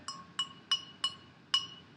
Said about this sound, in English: You can hear it's more like glass now than it is clay.